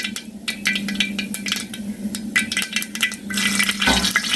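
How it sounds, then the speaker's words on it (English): Mustard seeds spluttering in hot oil, a dense run of sharp crackling pops scattered across the whole stretch, close and fairly loud, with no voices. "once the mustard starts breaking, we'll add this green chilli towards it"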